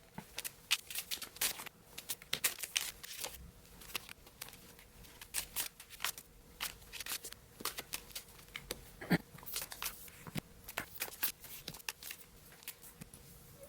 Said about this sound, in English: you guys really enjoyed having my speed shuffling, so I'm going to go ahead and do that for you now